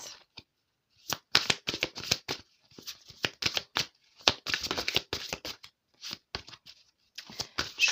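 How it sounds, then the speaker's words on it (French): Oracle cards being shuffled by hand, a series of close, crisp riffling bursts separated by short pauses, with no talking. "On va remélanger les cartes."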